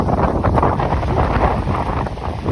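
Strong gale-force wind buffets the microphone with a loud, continuous roar and gusty low rumble throughout, beside a family of mute swans feeding.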